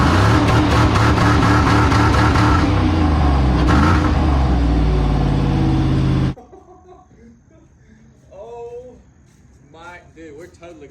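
A car engine that has just fired up revs loudly and steadily for about six seconds, then cuts to a low rumble with people talking excitedly over it.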